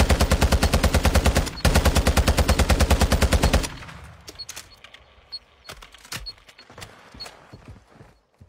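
Gunfire in a video game: a rapid, loud burst of automatic fire for several seconds, then scattered single shots and impacts at a distance.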